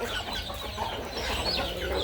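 Chickens clucking in a backyard poultry yard, a steady and busy flock chorus of overlapping clucks that carries on without a break at close range.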